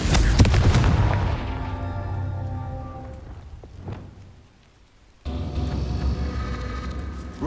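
Fire-spell explosions burst in Hogwarts Legacy gameplay, a loud boom at the start that fades into a crackling, rain-like decay, then a second blast rises near the end.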